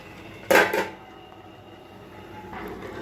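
A lid set back down on a cooking pot of pumpkin, Malabar spinach and prawn curry: one sharp metallic clatter with a quick second knock, then near quiet, with a faint later rustle.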